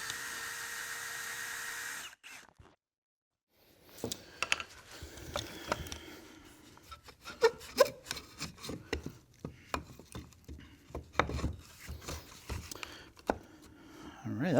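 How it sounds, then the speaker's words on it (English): Hand drill fitted with a four-center bit boring mortises into wood for a fireside bench, heard as irregular grinding, creaking and clicking bursts close by after a brief pause, with some talk. "I'm going to grab a 4-center bit and a hand drill, and I'm actually going to drill these in place"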